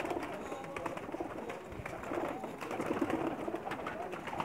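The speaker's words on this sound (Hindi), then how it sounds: "ये कबूतर आपको मैं दिखा रहा हूँ" Racing pigeons cooing on a rooftop loft, soft low burbling calls repeating over a steady busy background hum with faint voices nearby.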